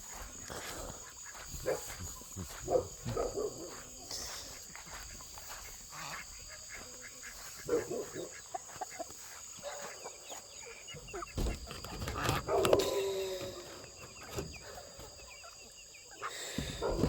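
Busy barnyard clamor of ducks and other fowl, overlapping calls and clucks at close range, with a few louder bursts and a faint dog-like bark.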